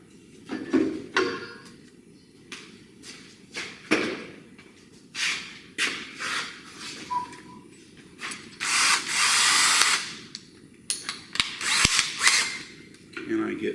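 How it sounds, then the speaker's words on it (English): Power drill boring a hole in metal on a shop bench, heard as repeated short bursts of whirring and grinding that start and stop irregularly, with one longer, louder run near the middle, close and fairly loud. "So let's drill a hole."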